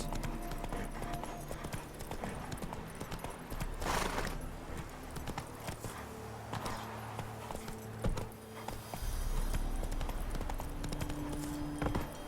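Hooves of a horse in The Witcher 3 clip-clop in a steady walking rhythm over game ambience and music, fairly close and continuous throughout.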